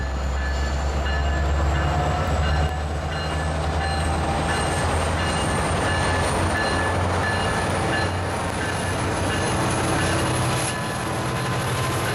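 A Caltrain commuter train idles at a station, a steady loud low rumble and engine drone with a faint rising whine above, continuous throughout with no talk.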